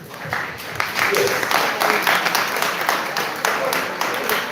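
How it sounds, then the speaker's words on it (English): Applause from a school assembly audience during a medical team's visit, a steady wash of many hands clapping for several seconds with voices mixed in. "A big applause to the..."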